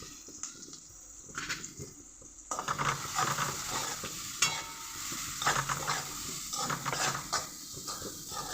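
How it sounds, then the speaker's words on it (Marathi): Onion and coriander being sautéed for pav bhaji in a pan, with a soft steady sizzle and scraping stirs throughout. Stirring grows busier after the first couple of seconds. "थोडीशी कोथिंबीर आणि कांदा आपण चांगला परतून घेतो"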